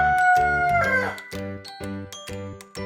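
A rooster crows in a stylized, musical way, followed by a run of evenly spaced, bright tones, clear and close with no speech.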